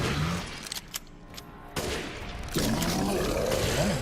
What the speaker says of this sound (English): Might have to use all a sniper ammo for this one.